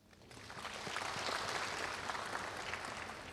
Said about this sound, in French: Merci de les acclamer